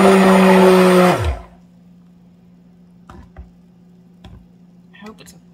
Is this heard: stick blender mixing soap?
yes